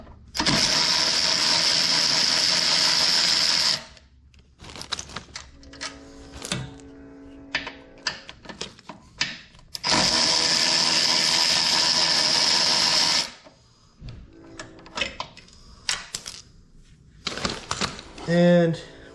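Bolts being removed from the brake pressure modulator valve bracket on a Corvette C7 with a power ratchet, two long loud buzzing runs separated by clinks of tools and metal, with a voice speaking in between.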